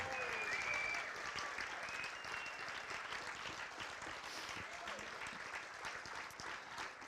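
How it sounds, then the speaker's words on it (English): A banquet-hall crowd claps for awardees at the 2017 Millbrae Man, Woman & Student of the Year awards dinner, a sustained, fairly faint round of applause that holds steady, then eases slightly. "this one more thunderous round of applause for our awardees"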